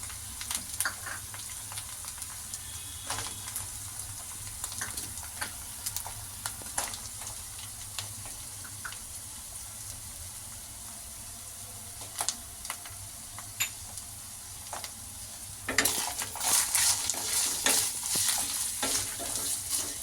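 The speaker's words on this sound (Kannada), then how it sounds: "ಫ್ರೈ ಮಾಡ್ಕೊಡೋಣ ತರಕಾರಿ ಇದ್ದೀನಿ" Carrots, beans and capsicum stir-frying in a pan for hotel-style veg fried rice, a steady sizzle with scattered scraping stirs that grow busier and louder toward the end, no voices.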